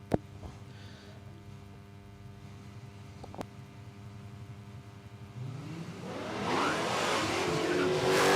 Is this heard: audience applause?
no